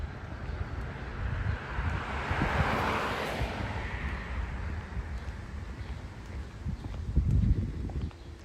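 Steady wind buffets the microphone with a low rushing roar on Staten Island, New York City, on a hot, humid day, rising and falling through the whole stretch with no voices.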